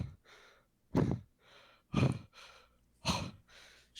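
A voice imitates soft panting, with four heavier breaths spaced about a second apart and lighter airy breaths between them, close and intimate with no words.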